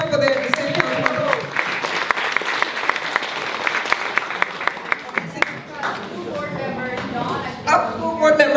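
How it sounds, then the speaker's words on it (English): An audience at a King County community candidate forum applauds standing elected officials and the city council: sustained, dense clapping throughout, with a speaker's voice carrying over it and a crowd swell near the end. "Can you clap it up for the city council?"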